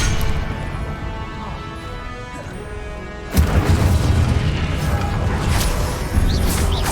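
Incendio and Confringo spell blasts from Hogwarts Legacy combat: a muffled rumble gives way to a sudden loud booming crash, followed by sustained rough crackling and another heavy impact near the end.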